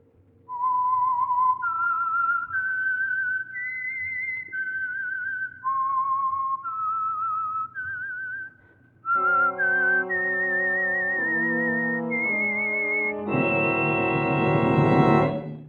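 A person whistles the slow, eerie theme of the radio program The Whistler, long rising and falling notes, alone and clear, ending in a sustained higher tone with fuller accompaniment.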